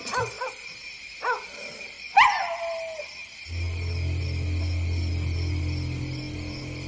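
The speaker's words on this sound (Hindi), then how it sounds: "डांग, इतना क्यों भौंक रहे हो?" A dog named Dang, in a village, barks several times in sharp separate yelps, then lets out a rising whimpering howl before a steady low rumble takes over.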